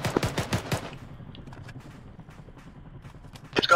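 Rapid gunfire bursts in ARMA 3 crack close and loud at the start, fade into a low rumbling battle ambience, then a fresh sharp shot rings out near the end.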